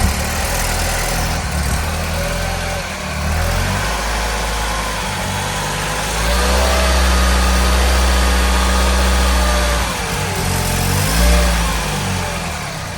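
A 2012 MINI Cooper R60 ALL4 S, freshly repaired for oil leaks, starts up and settles into a loud, close idle, then takes a sustained rev that rises and falls back before easing off.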